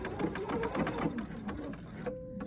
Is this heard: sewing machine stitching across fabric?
yes